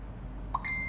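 A Facebook Messenger notification chime sounds after a message is sent, two short bright tones close together over a steady low background hum, heard alone without talk.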